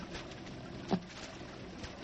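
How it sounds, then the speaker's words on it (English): Two sparse taps on a door, about a second apart, cut through a steady wash of rain patter against windows in a radio drama scene, faint and a little distant. "There's someone tapping on the door to our room."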